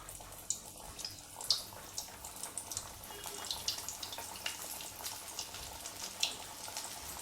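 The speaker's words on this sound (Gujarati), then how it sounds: "એને વધુ ક્રિસ્પી બનાવવા માટે એને આપણે તળી લઈશું" Kothimbir vadi, a crispy Maharashtrian coriander fritter, deep-frying in hot oil over a medium-to-low flame, giving a steady close sizzle with scattered sharp crackles and pops throughout.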